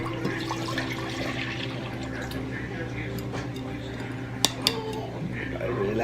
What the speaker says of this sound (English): then you're going to put the milk into the pan